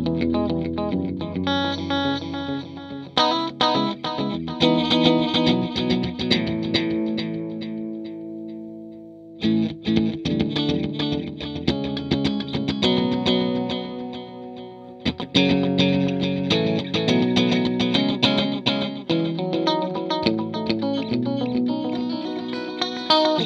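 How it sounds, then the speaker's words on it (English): Distorted electric guitar chords ring out through a Stereo Memory Man with Hazarai delay pedal, each note repeating, the playing pausing briefly twice before resuming loud and steady. "So this is the echo, and with the decay, we can add some reverb."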